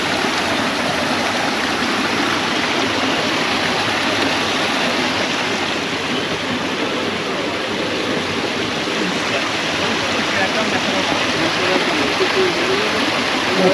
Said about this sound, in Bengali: এই ঝর্ণার পানি একদম স্বচ্ছ এবং ঠান্ডা।